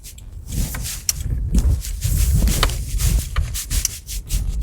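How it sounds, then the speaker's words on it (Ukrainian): A 2017 Subaru Forester Premium 2.5 AT rolls over tram rails, its suspension giving low thuds and knocks with rubbing, creaking rattles inside the cabin, fairly loud and close, no talk. "Переїдемо через оці люті трамвайні речки. послухаємо підвізку."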